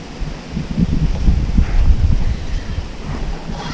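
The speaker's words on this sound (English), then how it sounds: "And the wind definitely picked up." Wind gusting at the Florida shore buffets the microphone in rumbling, uneven surges, with surf washing faintly behind, loud and close with no talking.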